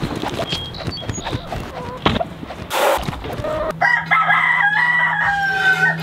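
Chickens cluck in a farmyard patch, then a rooster lets out a loud, drawn-out crow close by, with the hens still audible around it.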